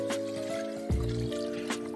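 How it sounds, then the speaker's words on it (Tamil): Water poured from a vessel into a pot of mutton cooking for biryani over a wood-fired stove, a short close trickle and splash under a steady hum. "இப்போ நம்ம மட்டன் வேக வைக்கிறதுக்கு 1 லிட்டர்லேருந்து ஒரு 2 லிட்டர் வரைக்கும் தண்ணி சேர்த்துக்கலாம்"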